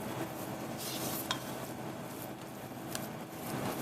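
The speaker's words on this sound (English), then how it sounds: "she's going to vigorously stir, which means stir fast until it forms a ball" A spoon stirs choux pastry dough fast in a pan over low heat, producing a soft, continuous scraping and slapping that stays quiet and close, with a couple of light metallic taps.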